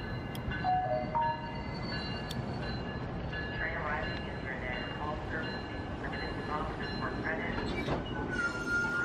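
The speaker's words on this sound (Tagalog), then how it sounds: "So our train is here. This train goes all the way to the end side of Lakeshore West." A Lakeshore West line commuter train in Toronto rumbles steadily at close range, with scattered squeals and whines rising over the continuous rolling noise of the cars.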